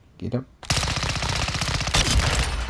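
An X13 Auto pistol fires in Call of Duty: Modern Warfare II, a rapid automatic burst of close, loud shots after a brief spoken word, with the rattle continuing steadily to the end.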